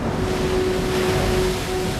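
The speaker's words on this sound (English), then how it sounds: "40-foot waves pounded the hull of the small boat" Heavy, stormy sea off Nantucket Shoals, with 40-foot waves pounding the hull of a small sailing boat in 40-knot winds: a dense, continuous roar of surf and wind, loud and steady throughout, with no voices.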